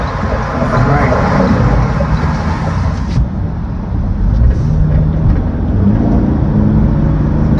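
2026 Toyota Camry SE hybrid with a 4-cylinder engine accelerating at half throttle, a loud rising engine drone with tire and road roar heard from inside the cabin, steady and building.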